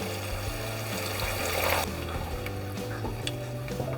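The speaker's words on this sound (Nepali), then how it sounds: "अब थोरै पानी हालेर पकाउँ।" A small splash of water pours into paneer chili gravy cooking in a pan, a steady broadband rush that shifts partway through, with faint stirring noises and no talking.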